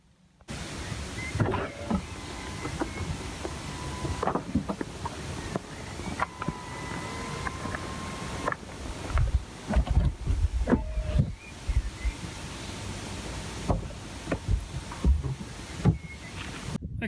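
The electric folding roof of a 2016 Audi TT Roadster S Line TDI 2.0 Ultra lowering outdoors: a steady motor whine in several stretches, broken by short pauses and mechanical clicks, over light wind noise.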